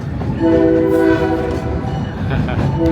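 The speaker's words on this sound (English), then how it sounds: "every time we come to a crossing, he's got to blow that horn." A loud, sustained train horn blares at a crossing over the rumble and clatter of a moving train, heard close and dominating the sound.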